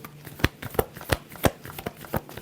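A deck of tarot cards is shuffled by hand, with rapid, close riffling bursts of paper slaps coming in an uneven rhythm several times a second.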